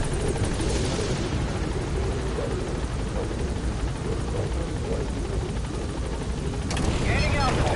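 Helicopter departing in Metal Gear Solid 5, a steady dense rotor and engine drone holding loud and even throughout, swelling slightly near the end as it gains altitude, with a voice heard over it.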